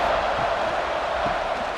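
A stadium crowd in EA Sports College Football 26 roars in a steady, loud wash of cheering after a big third-down play.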